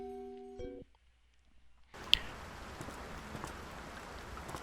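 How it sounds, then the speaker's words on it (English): In the video game Layers of Fear, after a few brief musical tones and a pause, steady rain begins to fall with a soft, dense patter and an occasional sharper drop. "Oh, we've got rain."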